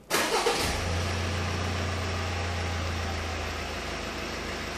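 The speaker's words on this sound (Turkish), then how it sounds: "Çalıştı mı aracı?" Subaru Forester engine cranking briefly and catching, then settling into a steady, moderately loud idle hum that continues to the end, with no talking.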